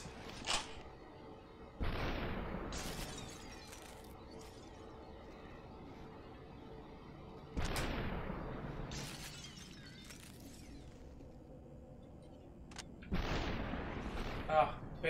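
Gunshots crack in SUPERHOT with glassy shattering, several loud separate bursts spread apart by quiet gaps, each sharp onset decaying with a crunchy, splintering tail.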